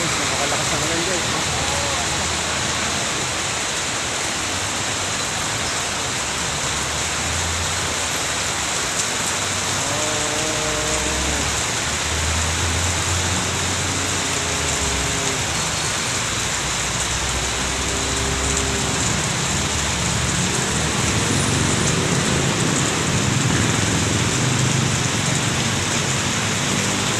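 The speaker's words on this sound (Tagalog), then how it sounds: "napakalakas ng ulan" Heavy rain pours in a dense, constant hiss in Santo Tomas, Batangas, with a voice speaking briefly underneath the downpour.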